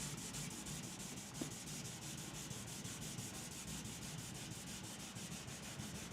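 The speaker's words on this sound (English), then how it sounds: "and then we're gonna flat sand all of this." Sandpaper is rubbed back and forth in quick, even strokes to flat-sand automotive clear coat, a faint, close, rhythmic scratching that continues steadily without pause.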